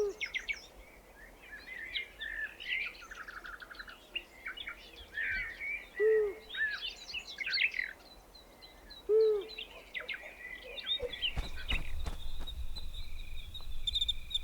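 Young long-eared owls in the wild give repeated calls, mixing short low hoots with thin higher cries against a bed of insect chirps, with a burst of rustling or wind noise toward the end.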